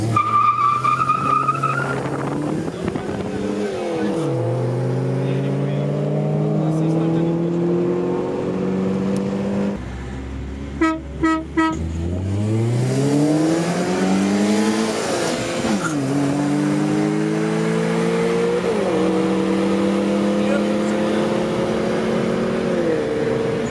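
A Lada Priora and an Opel Astra GTC launch from a standing start, engines revving hard through rising gear pulls with tire squeal, a brief pause and a horn-like beep before another loud acceleration run.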